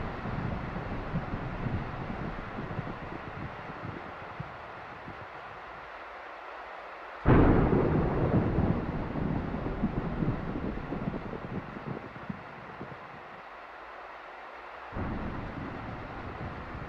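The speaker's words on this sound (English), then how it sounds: "So we need more thunder sounds" Thunder effects for a Godot 3D island game weather system: steady low rumble with a sharp loud clap partway through, a long rolling decay, and a second, softer swell near the end, with no talking.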